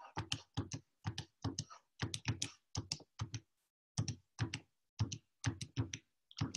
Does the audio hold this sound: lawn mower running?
no